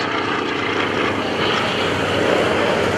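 A propeller-driven warbird replica of a Japanese Zero flies at the 2011 Blue Angels Homecoming airshow, giving a loud, steady engine and propeller drone throughout.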